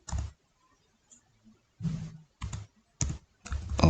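Typing on a computer keyboard while editing text in a social media graphic design, heard as several separate bursts of close, dull key clatter with short silent gaps between them.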